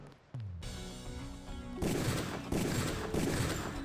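Pistol gunfire in the shooter game Deus Ex, a few sharp shots cracking out in quick succession after a brief quiet lead-in, loud and close against a steady tonal background.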